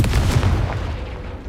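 A Confringo blasting spell exploding in Hogwarts Legacy, a loud booming burst that rumbles and fades away over a second or so, heard alone.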